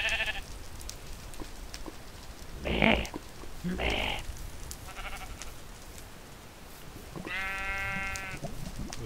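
Sheep in the video game Minecraft bleat several times, short wavering cries with a buzzy, nasal edge, spaced a second or two apart over a quiet background hiss, with the last bleat the longest.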